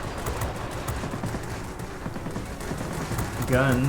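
Aircraft guns fire in World of Warplanes aboard an F5F Skyrocket, a rapid rattling burst of shots that runs continuously at moderate loudness beneath a rumbling engine drone, ending in a brief tonal beep.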